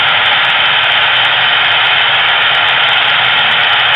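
A model gas turbine locomotive's sound effect as its engines and turbines power off: a loud, steady jet-like turbine whine and roar filling the whole span, with no talk.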